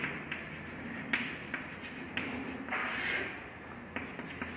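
Scratchy pen or chalk strokes on a board during a maths lesson on subsets, with irregular short taps and scrapes, some sharper marks, heard close and alone.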